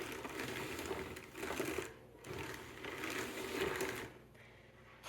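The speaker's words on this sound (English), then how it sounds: "I'm just trying to evenly cover my base layer by working back and forth across the drum" A drum carder is cranked to blend black Corriedale wool, making a steady, soft mechanical whirring with slight surges and a couple of brief pauses.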